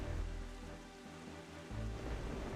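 Steady storm rain in the video game Zelda Wind Waker, a dense continuous hiss with a low rumbling undertone that dips briefly in the middle and returns.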